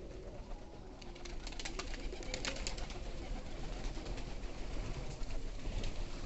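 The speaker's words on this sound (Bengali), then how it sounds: "কবুতরটা খুব সুন্দর ডাকতেছে" Pigeons cooing near a pigeon farm as the flock settles back down, soft low calls repeating under a steady, fairly loud hiss of outdoor background noise, with no talking.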